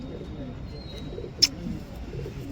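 Old-breed pigeons, a male and female pair, coo low and soft in a steady murmuring drone close by, with one brief sharp click partway through and no talk.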